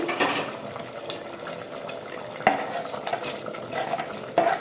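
Tomatoes stirred into a Telangana-style mutton chikna boti curry in a pan, with a spoon scraping and clinking against the metal in repeated strokes over a soft sizzle, close and fairly loud, no talking.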